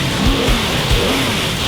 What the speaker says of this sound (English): The rest of the cars were revving their engines on the starter's grid for a practice lap